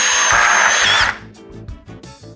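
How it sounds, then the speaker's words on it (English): Milwaukee drill driving a screw with a nut setter: a loud, close, high-pitched whirring motor burst of about one second that cuts off abruptly, followed by quieter clicks and handling noise. "as we drive more and more of those screws"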